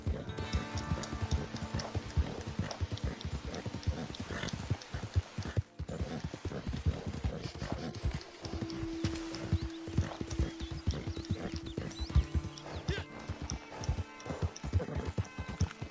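A racehorse galloping in the Red Dead video game, its hoofbeats a steady rapid clip-clop that runs the whole stretch over busy game ambience, with an occasional whinny.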